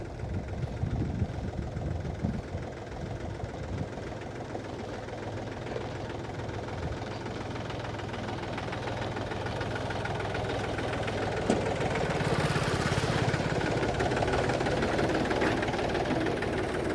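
A tractor on oversized monster tyres drives along with its engine running, giving a steady mid-pitched rumble and chugging drone that holds a constant level at a moderate distance throughout, with no voices.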